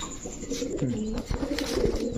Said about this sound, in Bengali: একেবারে টকটকা লাল গিয়ারের কবুতর দেখেন